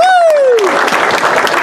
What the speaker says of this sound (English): That'll probably be the only time you hear the crowd root for you.